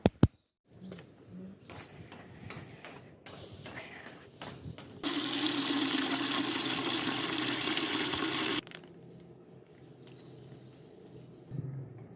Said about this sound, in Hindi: हमने कपड़े ये देखें सर्फ में और बाल्टी में पानी में भिगो दिए हैं